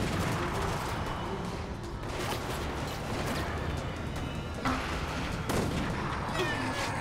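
Video game gunfire in Resident Evil Operation Raccoon City, rapid dense shots crackling continuously over a busy, noisy combat backdrop with a few sharper reports standing out, a voice faintly present.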